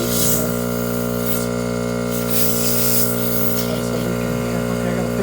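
Steady, loud air hiss leaks from an air suspension tank on a bagged Mk5/6 Volkswagen, a continuous spray-like rush with a constant mechanical hum beneath it.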